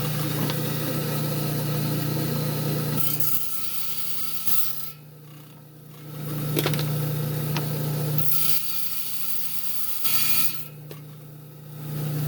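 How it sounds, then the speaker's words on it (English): Trim saw blade cutting through a piece of amazonite, a loud steady whine broken by pauses as the stone is fed and pulled back, several cutting passes in a row. "got the piece down the trim saw. We're going to trim this out and get it ready for the cabin machine"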